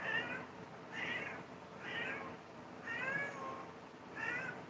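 A cat named Knight meows repeatedly, five drawn-out cries at a steady pace of roughly one per second, fairly faint and somewhat distant in a quiet room.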